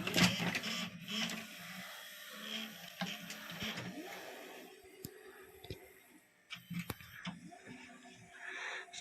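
A VHS video recorder mechanism running on the bench during repair, with faint whirring, clicking and mechanical clunks from the tape transport and front flap, quiet and close with irregular knocks.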